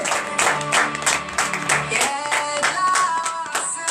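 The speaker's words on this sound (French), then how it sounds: "Donnez de vive acclamation au Seigneur" A congregation at a morning prayer service in Benin claps in rhythm while acclaiming the Lord. The clapping is loud and steady over sustained voices and tones.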